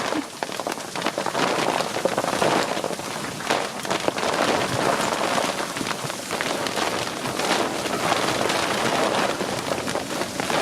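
Steady rain pours down on an anchored sailboat in a storm, a dense constant hiss with strong gusts of wind buffeting the microphone throughout.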